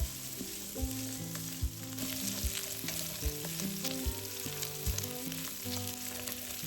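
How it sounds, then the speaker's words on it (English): Bacon and cured pork stir-fried in hot oil for Chinese sticky rice, a steady close sizzle with rhythmic spatula scrapes and stirring clunks, no talk. "Once the oil is hot, add the bacon first and stir fry until the fat is released."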